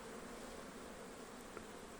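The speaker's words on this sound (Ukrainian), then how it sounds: "бджоли збилися так дуже висять грудною, вони дуже зжаті" Bees clustered tightly in a hanging mass at a beehive, giving a faint, steady buzzing drone throughout with no talk over it.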